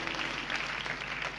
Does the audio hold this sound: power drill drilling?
no